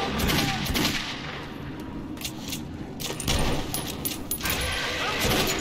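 Bursts of gunfire in the video game Metro 2033 Redux, sharp repeated shots and rattling volleys coming in clusters, with shouting voices mixed in between the firing.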